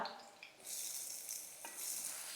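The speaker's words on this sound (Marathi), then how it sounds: "आता आपल्याला ह्यात टाकायचा आहे बारीक चिरलेला कांदा" Finely chopped onion hits a pan with garlic and chili already in it, a soft sizzle that swells as the onion is stirred in, with a few light scraping sounds, fairly quiet.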